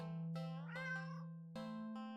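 A cartoon cat in a video game gives a few short, tonal meows in quick succession, close and clear, with a brief electronic, tuned quality and no talking over it.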